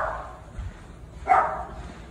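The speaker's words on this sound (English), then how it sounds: "Loud dog." A dog barking outdoors early on a Saturday morning, heard as two short barks a second apart, with the second one louder and clearer, away from the listener.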